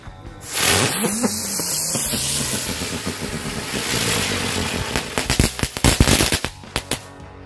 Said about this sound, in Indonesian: Berhasil menyala bosku, mercon bunga teratai.